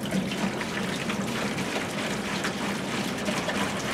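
Hot water pours in a steady, continuous rush, a close and even splashing stream with no pauses.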